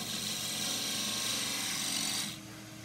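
A 3/8 spindle gouge cuts forest sheoak on a wood lathe while shaping the foot of a flat box, giving a steady, close rasping hiss that holds for over two seconds and then eases off.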